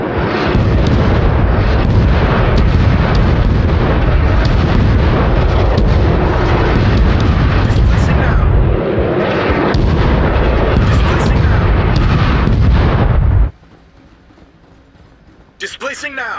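Heavy artillery bombardment in the shooter game Crossfire: Legion, a dense, continuous barrage of loud booming impacts and blasts lasting several seconds, with shouted voices mixed in, then cutting out abruptly to a quieter ending with a brief burst.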